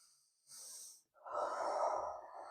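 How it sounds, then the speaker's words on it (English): Slow breathing, a soft intake followed by a longer, fuller exhale, close and quiet with no other sound around it. "I just breathe in and out"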